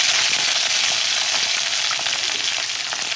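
Green chillies fry in hot oil for poha, giving a loud, steady sizzle that crackles evenly and runs without a break, with no voices.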